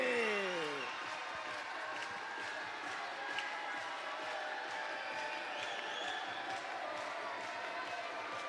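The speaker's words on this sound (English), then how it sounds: "put your hands together for the Little Hillbilly" Wrestling crowd at a live AWA House of Pain show applauds and cheers steadily for a wrestler's ring entrance, a broad, distant-sounding roar of clapping and voices that holds throughout.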